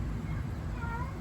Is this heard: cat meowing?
yes